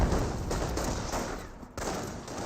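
Dense rifle and machine-gun fire crackles almost without a break from Company of Heroes, a World War II strategy game, as riflemen come under fire. The volleys overlap into a loud, steady wash, with one brief lull partway through.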